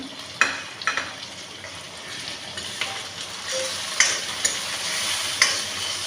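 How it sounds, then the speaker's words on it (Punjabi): Tomatoes and onions fry in a pan, a steady close sizzle broken by sharp spatula clicks and scrapes as the mixture is stirred, with no talking. "ਟਮਾਟਰ ਨੂੰ ਵੀ ਆਪਣੇ ਨੂੰ ਸੇਕ ਲੱਗ ਗਿਆ ਤੇ ਹਲਕਾ ਹਲਕੇ ਸਾਰੀਆਂ ਚੀਜ਼ਾਂ ਭੁੱਜ ਗਈਆਂ ਆ"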